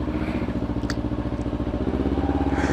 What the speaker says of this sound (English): that exhaust just sounds really, really nice